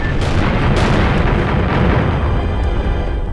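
A dense, loud barrage of explosions and artillery-like blasts from the Sega Saturn mech combat game Gungriffon, with rumbling booms running together without a break.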